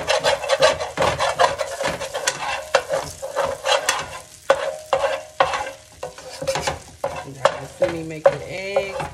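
Pancake batter cooks on a breakfast griddle amid busy scraping and stirring of a spatula, rhythmic rasping strokes over a soft sizzle, with a brief tonal squeak near the end.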